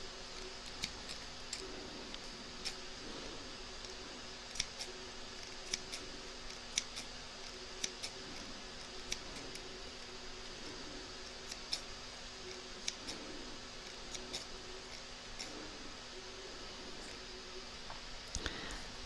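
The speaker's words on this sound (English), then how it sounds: "So we're now going to snip around the edge." Scissors snip around the edge of slipper fabric in a quiet room, a run of faint, small cuts spaced a second or two apart over a low steady background.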